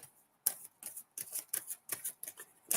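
Tarot cards shuffled in quick bursts, a series of crisp papery riffles and snaps close to the microphone, with short pauses between them and no voices.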